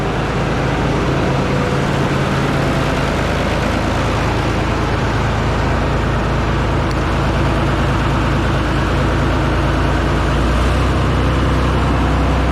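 Minneapolis Moline 1355 tractor engine idling in a barn, a steady loud low rumble running throughout with no speech.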